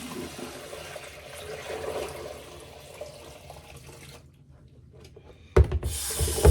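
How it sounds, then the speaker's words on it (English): Water splashes out of a basin at a straight razor shaving station, a steady pour and trickle that fades, then a sudden loud splash and rush of water at the end. "I'm gonna dump out this basin over here."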